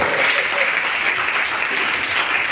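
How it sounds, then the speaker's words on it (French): An audience applauds and cheers for a mother. Steady, dense clapping fills the whole clip from start to finish. "Est-ce qu'on peut acclamer la maman très fort?"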